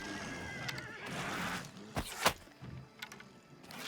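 The horse Shadowmere neighs in the video game Oblivion, a clear whinny followed by sharp snorts and clip-clopping hoof sounds, fairly quiet and with no talk over it.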